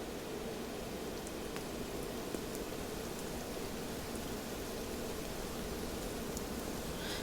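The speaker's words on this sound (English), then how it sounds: "It's raining." Steady rain falls over a cemetery scene in the video game Tears of Themis, a constant even hiss of fine drops with no talking.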